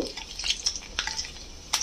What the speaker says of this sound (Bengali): মেথিটাকে একটুখানি ভাজা করে নেব